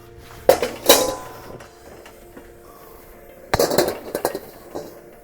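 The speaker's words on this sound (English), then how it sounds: "clean the wok out" A wok being scraped and cleaned out, with two loud bursts of metal clanging and scraping separated by a quieter pause, close and without speech.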